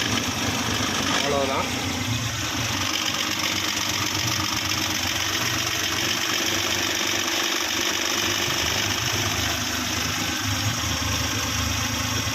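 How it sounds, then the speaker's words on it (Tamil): A 2010 Maruti Omni van with an MPFI engine idles steadily up close, a continuous mid-pitched rumble with a faint rattle, while someone talks over it. "வண்டி ஸ்டார்ட் பண்ணி பார்ப்போம்."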